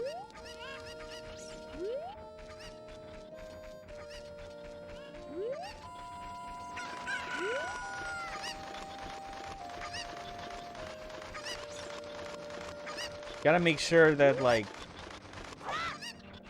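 Cuckoo chickens in Ocarina of Time give a short series of clucks, with a louder flurry of squawks near the end. A person talks softly over them.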